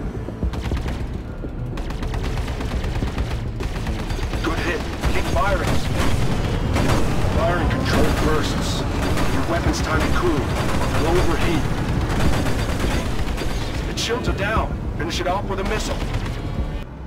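Ship weapons in Star Citizen Alpha 1.1.2 fire in a dense, continuous barrage, with heavy booming impacts layered over a steady roar for the whole stretch.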